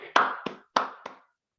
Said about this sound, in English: Please clap to welcome Toastmaster Arushi.